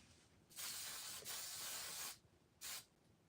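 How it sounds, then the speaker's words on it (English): A spray bottle mists hair in bursts: a long hiss broken by a brief pause, then a short final spritz, close and quiet in a calm room. "I'm about to spray you."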